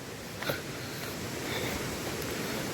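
Rushing water of the Harchiri waterfall, a steady broadband roar heard from nearby along a trail, with a brief rustle near the start and no talk.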